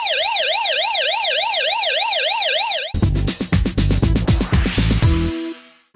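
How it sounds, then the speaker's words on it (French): Siren mode on a Sound Blaster Roar Bluetooth speaker: a loud, rapidly warbling electronic wail for about three seconds, then switching to a harsh pulsing honk-like tone that fades out near the end. "la sirène pour réveiller les voisins"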